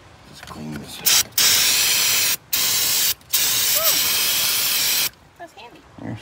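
Brake cleaner sprayed onto the engine of a 2021-2024 Ford F150 2.7 EcoBoost during an oil change, several loud close hissing bursts of a second or more each, with brief speech between sprays.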